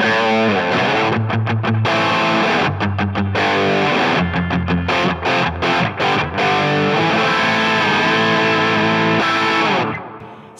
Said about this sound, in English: Here's a sound of a Plexi with a boost on it.